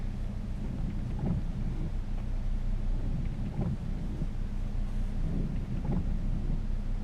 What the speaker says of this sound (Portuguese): E essa chuvinha tá comprida, viu? Quer saber de parar hoje não.